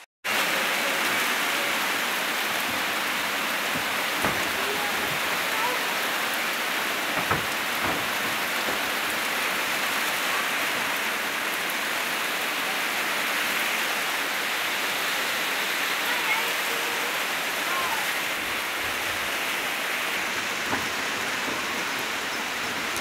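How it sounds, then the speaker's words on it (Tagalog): Heavy rain pours down steadily, a dense and loud continuous hiss that lasts the whole time, with a few faint thuds mixed in and no speech. "Malakas ng ulan."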